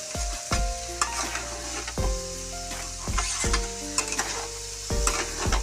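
A metal spatula scrapes and taps rhythmically, about once a second, against a pan as a grated coconut and sugar filling for puli pitha cooks down, with a soft sizzle beneath the strokes.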